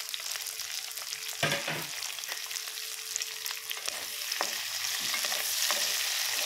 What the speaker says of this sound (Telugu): ముందుగా అదే పన్నీర్ వేయించిన కడాయిలో కొంచెం ఆయిల్ వేసి కాజూస్ వేస్తున్నాను అండి.